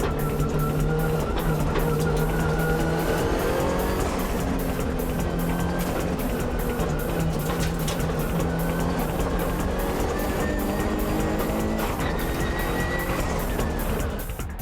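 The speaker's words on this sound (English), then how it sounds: "But Morito's Impreza is closing in on the downhill corner" A Subaru Impreza and a Nissan S15 race on a downhill mountain course, engines roaring loud and close with rising and falling revs as they shift gears, a constant dense motor drone.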